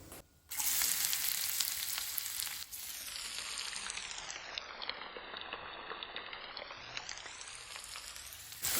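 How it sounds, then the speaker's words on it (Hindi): Onions frying in hot oil with cumin seeds and a bay leaf give off a continuous, dense sizzle. It starts abruptly, stays loud and close, and has a faint crackle throughout, with no voices. "प्याज जो है ना हमें हल्का सा गोल्डन ब्राउन होने तक इसे फ्राई करके लेना है।"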